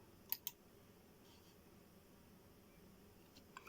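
A computer mouse gives two quick sharp clicks in succession against a quiet room hum, followed later by a couple of fainter clicks.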